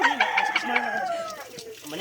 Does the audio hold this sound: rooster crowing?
yes